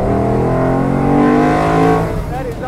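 A Ford GT40 race car with a 650-horsepower engine revs hard at a raceway, a loud, close, sustained roar climbing and holding in pitch before easing off, with some talk underneath.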